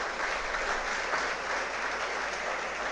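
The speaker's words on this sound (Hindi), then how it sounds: "एक बार जोरदार तालियां उपेंद्र जी के लिए बजाएं।" Sustained applause from a large audience at a civil services success seminar, an even, dense roar of clapping that holds steady for about three seconds without talk.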